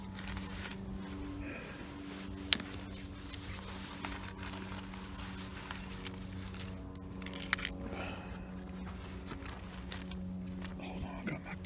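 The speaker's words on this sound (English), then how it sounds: "Hold on, I got my vehicle keys." Vehicle keys jangle in someone's hands, with light metallic clinks scattered through a steady background and a few louder rattles.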